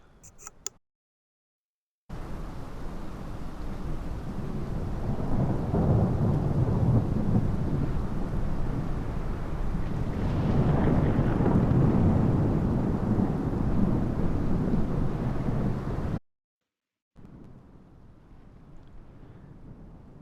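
Thunderstorm set to maximum lightning in a flight simulator on a DC-3 flight, a continuous loud roar of rain and wind with rolling thunder swelling in the middle, cut off by brief silences at both ends.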